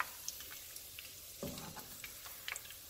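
Shrimp egg foo young sizzles in hot oil at about 345 to 350 degrees, a steady close crackle and hiss with scattered sharp pops and a brief louder burst of bubbling partway through, no voices.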